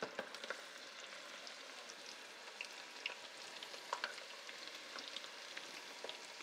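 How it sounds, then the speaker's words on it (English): Squid pieces fry in hot oil in a pan, a steady close crackling sizzle with scattered sharp pops throughout, no voices. "Now you want to fry them for about 4 to 5 minutes."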